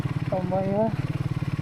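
A motorcycle approaches at night in the forest near Gaganachukki Waterfalls, its engine putting in a quick, even pulse under a short exclamation from a nearby voice.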